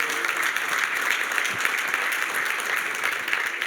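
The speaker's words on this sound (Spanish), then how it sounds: "Aplauda a los bienvenidos" A church congregation applauds during a Spanish-language worship assembly, producing dense, steady clapping that carries on evenly throughout.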